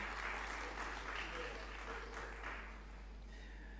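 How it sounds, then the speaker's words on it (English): An audience at a university convocation ceremony for a health management graduating batch applauds in a steady, dense wash of clapping that softens and thins toward the end, with no voices over it. "Please give a round of applause."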